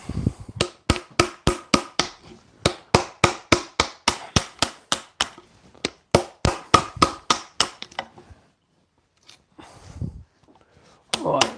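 A chisel strikes into a wooden side dish being carved in a rapid, regular series of sharp close knocks for about eight seconds, then pauses before a few scattered taps return, loud and with no talking.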